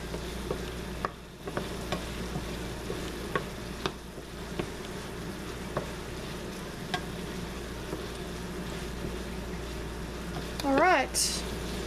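Beef empanada filling with black olives cooks in a pan, giving a steady low sizzle and crackle with occasional stirring clicks while someone talks over it.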